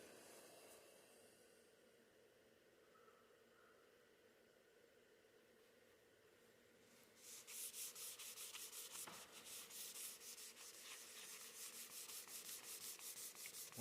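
A rag wipes excess wood stain off a wooden surface. After a few quiet seconds, rapid, close, steady rubbing strokes begin and continue to the end.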